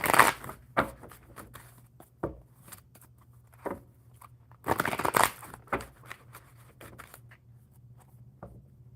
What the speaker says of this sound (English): Before I shuffle these for James